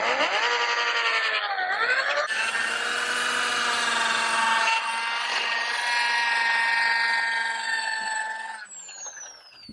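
An electric drill with a polishing attachment works over an old car headlight being restored on a 20-year-old car, giving a loud, steady whine that shifts pitch a few times before easing off near the end.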